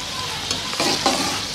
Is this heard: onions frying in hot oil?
yes